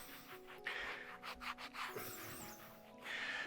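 Cloth rubbing oil onto an unpainted wrought iron gate gives a steady scratchy swishing, with rhythmic strokes repeating close by.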